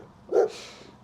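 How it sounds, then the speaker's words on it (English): A dog named Daisy gives a single short, sharp bark indoors, moderately close, followed by a faint fading tail. "Got a bit of barking here."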